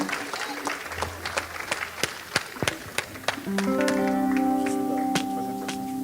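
Applause from a church assembly crowd, scattered claps with sharp isolated hits at first, then a sustained held musical tone rising underneath as the clapping continues.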